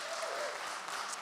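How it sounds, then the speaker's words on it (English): A church farewell celebration crowd claps for the tech team, a brief, steady wash of applause heard faintly throughout. "Give them a clap as well."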